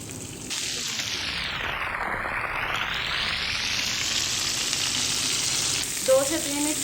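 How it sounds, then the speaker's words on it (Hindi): Chicken malai boti frying in a pan, a loud, continuous close sizzle with some stirring and swishing movement, ending in a short flurry of brighter scraping sounds. "दो से 3 मिनट के लिए एक साइड से फ्राई कर दिया"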